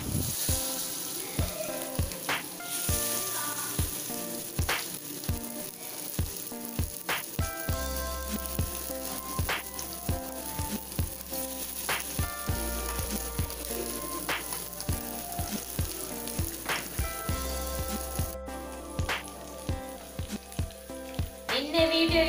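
Fish fries in a pan with a steady, close sizzle, punctuated throughout by frequent crackles and clicks of a utensil over a faint continuous hum.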